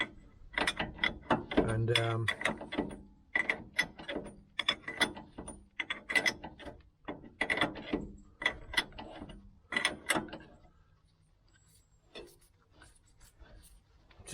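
Ratchet tightening a nut during a rear wheel bearing replacement, rapid clicking strokes in quick bursts up close, fading to sparse, softer clicks toward the end, with a brief spoken word.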